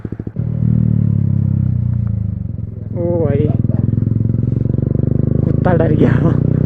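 A Yamaha MT-15 motorcycle with an Akrapovic exhaust starts with a bark and then idles with a loud, close, throbbing beat. Two sharp throttle blips rise and fall over the idle, and someone speaks briefly.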